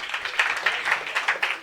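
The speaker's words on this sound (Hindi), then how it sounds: "जोरदार तालियां।" Audience applause at a karaoke-style singing show, a short burst of steady clapping from a nearby crowd, moderately loud and alone with no talk.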